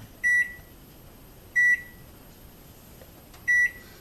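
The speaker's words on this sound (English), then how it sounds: "Set the timer for 5 minutes." Kitchen timer beeping during mozzarella cheese making, three bright electronic beep bursts spaced a little over a second apart, clear and close over a steady background hiss.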